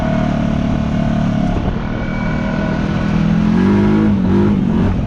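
A stock Honda Rancher 420 ATV running on 32-inch tires revs while being ridden. The engine drones loudly and close, its pitch rising and falling, with rumbling noise from the ride underneath.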